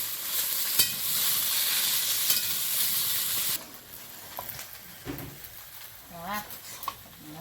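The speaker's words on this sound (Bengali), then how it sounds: "এই ধারে এখন ভেন্ডিটা চাপাচ্ছি" Okra sizzles loudly in hot oil in a pan, a bright steady frying hiss that drops suddenly halfway, after which softer sizzling and stirring clatter continue with a voice nearby.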